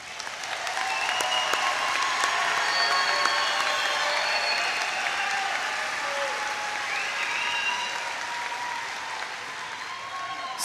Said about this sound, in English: please join me in recognizing these outstanding graduates with your applause